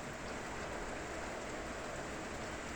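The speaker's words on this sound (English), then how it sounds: "I'm stuck out here waiting for it to quit raining." Steady rain falls outdoors beside a Chevy truck and motorhome under repair, a continuous broadband hiss of drops hitting surfaces with no break or talk.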